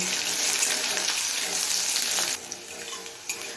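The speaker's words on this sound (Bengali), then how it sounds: "এবার এই আলুটা লাল করে ভেজে নেব" Long-cut strips of potato fry in hot oil with a steady, loud broadband sizzle that drops noticeably quieter partway through, with a few faint clinks near the end.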